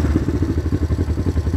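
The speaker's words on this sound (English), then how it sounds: "Now this is an electric start bike that has kick also, so just push the button." A 1970 Honda CL450 twin fires up on its electric starter and settles straight into a loud, close, lumpy rhythmic idle thumping.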